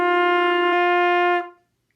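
A single sustained trumpet tone, bright and close, holding steady for over a second before fading out, rather than a clear run of slurred eighth notes from C up to G.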